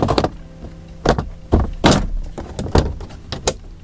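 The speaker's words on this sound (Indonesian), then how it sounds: "Sekarang kita tinggal pasang si lacinya." A car's glovebox being refitted into the dashboard, giving a series of sharp plastic clicks and knocks in irregular bursts, close and fairly loud, with no talking.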